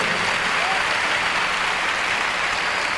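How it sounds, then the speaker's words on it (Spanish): Church congregation applauding during a Catholic women's congress, a sustained, even roar of many hands clapping that fills the whole stretch without pause. "Un aplauso al Señor por las grandes maravillas que hace."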